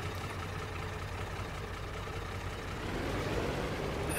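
Steady low engine drone of a tractor in Farming Simulator 22, a continuous heavy rumble that holds even and loud throughout, with no talking.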